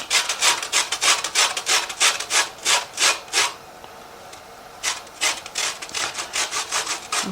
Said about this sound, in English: So now I'm going to add the zest of a lemon,